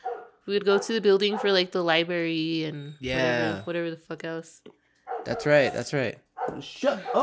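A household dog barks and yips, wanting to fight, in a few short bursts mixed into lively, close conversation between several people, the barks partly buried under the talk.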